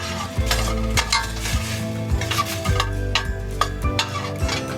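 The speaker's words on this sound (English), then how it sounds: "Let that fry up a little bit." Corn and garlic frying in a pan, a loud steady sizzle close up with regular scraping stirs and taps of the utensil against the pan, no voices over it.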